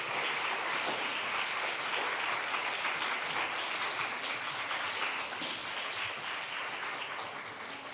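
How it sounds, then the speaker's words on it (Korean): Church congregation at a young adults' joint Sunday worship service in Korea applauding special song performers, a soft, distant, steady clapping that fades slightly toward the end. "우리 앞으로 나오실 때 우리 큰 박수 부탁드리도록 하겠습니다."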